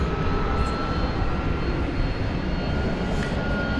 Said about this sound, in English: That was American Flight 1264 arriving from San Francisco.